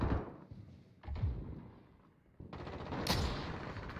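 Call of Duty Modern Warfare Ground War gunfire, heavy booming shots and blasts in quick succession, loud and close with rumbling tails, no talking.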